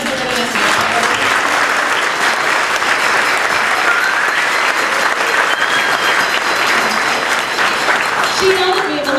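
Loud, steady applause from a school concert audience honouring a student during an elementary band spring concert, sustained clapping throughout with a few voices mixed in.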